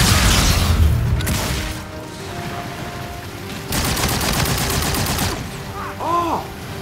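Video game gunfire crackles in loud bursts, with an opening volley, a quieter stretch, then a sustained rapid automatic stream and a final whooshing, warbling effect.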